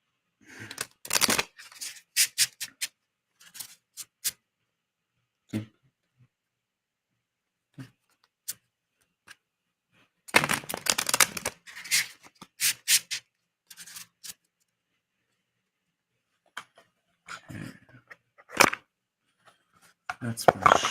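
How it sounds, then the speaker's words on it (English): Tarot cards being shuffled, bursts of riffling and sliding card noise in irregular clusters separated by quiet gaps, fairly close and soft, with occasional taps. "That's my shuffle."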